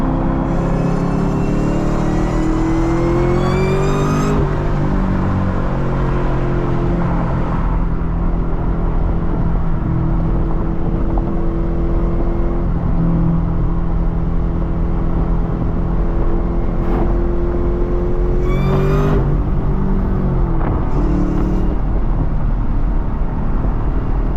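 A manual Chevrolet Camaro ZL1 with a supercharged engine drones loudly from inside the cabin, with a rising supercharger whine, a drop in pitch at a downshift and later revs climbing again.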